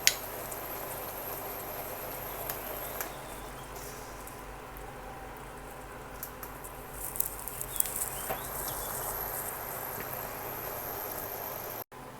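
Sweet fish sauce with tamarind water boiling in a pot, a steady close bubbling patter with scattered small pops, moderately quiet, ending in a brief knock.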